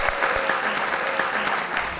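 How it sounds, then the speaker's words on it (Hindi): A short, dense burst of clapping from a studio audience on a comedy show, steady and close for about two seconds. "बहुत सारी तालियां मेरे अपने लिए।"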